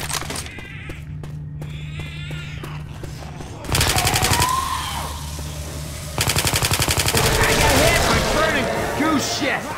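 Rapid assault rifle fire from the game Left 4 Dead 2, loud bursts of fast shots in two long runs with a lull between, over game noise and a neighing horse.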